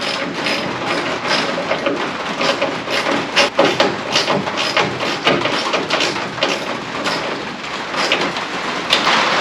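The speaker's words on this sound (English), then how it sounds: "I'm sure y'all will be able to hear the rain" Heavy rain pours down steadily in a broadband hiss, with irregular sharp knocks and rumbles mixed in, loud and close.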